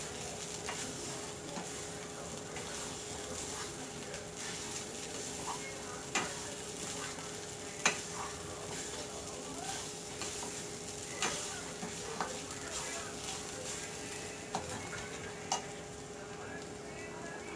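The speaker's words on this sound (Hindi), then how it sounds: "कोपरा भून के हो गया घी में" Grated coconut roasting in ghee in a pan for a Konkani-style rice flour sweet, a steady soft sizzle with occasional sharp scraping clicks of the stirring spoon, close by.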